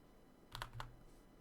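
A few quick keypresses on a computer keyboard's cursor keys, three soft close clicks in rapid succession over a quiet room hum.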